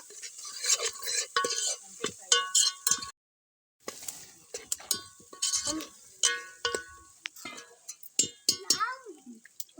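Ginger garlic paste is stirred into cooking food with a spoon, scraping and clinking against the pan in repeated strokes, with a light sizzle underneath and a brief silent gap partway through.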